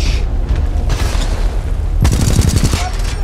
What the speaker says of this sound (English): And this is a machine gun of the Titan.